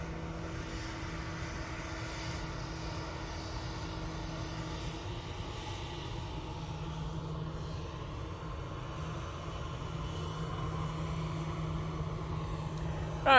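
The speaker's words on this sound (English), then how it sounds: "Mighty Orange, A320 off to Barcelona now" An Airbus A320 takes off from Manchester Airport, its engines giving a sustained, moderately loud roar with a steady low hum that builds slightly toward the end. No one speaks.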